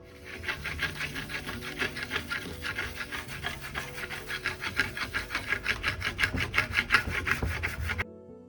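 A steel trowel polishing a thin coat of Venetian plaster on a wall, giving fast rhythmic rasping strokes that grow quicker and louder and then stop suddenly.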